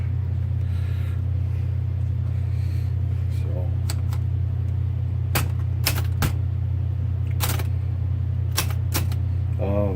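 1930s Remington Rand Model 1 typewriter with a stuck shifter, a few sharp keystrokes struck in small irregular clusters, followed by a brief bell-like ring, over a constant low hum in a quiet room.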